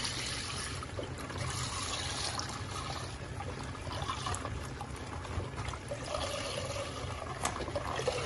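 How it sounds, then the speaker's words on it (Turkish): Milk pouring steadily into a pot, a continuous soft splashing trickle that stays fairly quiet and even throughout. "muhallebimi yapmak için sütümü tencereme ilave ediyorum"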